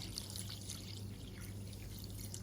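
Water poured steadily onto two kilos of sugar to make homemade honey syrup, a continuous close splashing trickle with no talk over it.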